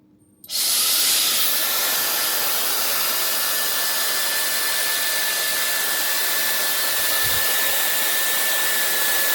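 A Ga.Ma iQ1 Perfetto hair dryer switches on after a brief quiet start and then runs steadily at maximum power, a loud, constant airy whoosh with a thin high whine.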